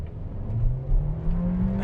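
A 2026 Volkswagen Virtus Exclusive sedan launching hard with stability control switched off, its engine drone climbing steadily in pitch as it accelerates, heard close from inside the cabin.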